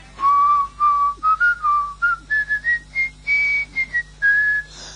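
A man whistles the melody from a famous Old Spice television commercial, a clear, close, loud tune of short and sustained notes rising in pitch over about five seconds, with no talking.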